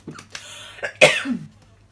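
A woman coughs and clears her throat a few times in quick succession, close and fairly loud in a quiet room, ending with a short raspy exhale.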